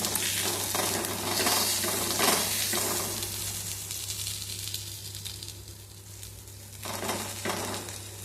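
Anchovies and curry leaves fry over a medium flame on a flat tawa, giving a steady, close crackling sizzle with stirring scrapes and brief metallic clinks, and no talk.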